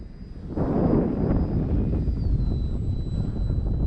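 A Dynam Skytrainer 182 RC plane flies in to land with flaps down, its electric motor a steady thin whine over rushing wind noise, sustained and moderately loud throughout.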